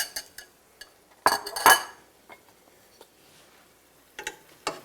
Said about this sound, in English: you gotta mix everything together. You gotta mix.